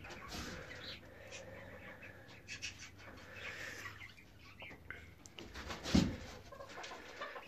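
Young Ameraucana chicks, two and a half months old, make soft, scattered clucks and chirps in a quiet pen. One brief louder cluck stands out amid low background noise.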